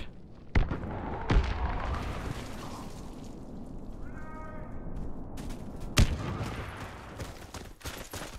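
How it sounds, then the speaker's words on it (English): Explosions and gunfire in the shooter game Warface, with sharp loud blasts at the start and again near the six-second mark over a continuous dense rumble of battle noise. "Who threw that bomb"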